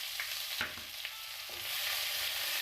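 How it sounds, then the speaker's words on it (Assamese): Chopped onions fry for a rohu fish curry, giving a soft, steady sizzle with a few light clicks of stirring and no voices. "আৰু ভালকৈ এনেকৈ ভাজি দিছোঁ।"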